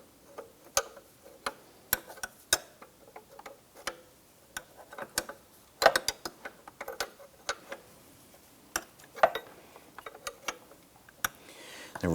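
An 18mm wrench working loose a fuel line connector on a 2005-2007 Ford Five Hundred, a series of sharp metallic clicks and ratchety ticks, close and irregular, with faint background sounds.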